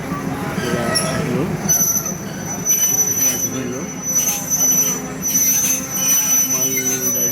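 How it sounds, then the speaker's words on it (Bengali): A freight train rolls past with loud, high-pitched wheel squeals recurring in bursts over a continuous rumbling clatter, with some voices faintly underneath. "মালগাড়ি আর কি"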